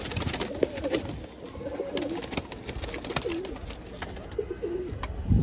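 Pigeons coo in repeated soft, rolling phrases at a pigeon-flying tournament in Amritsar, with faint clicks and rustles in between.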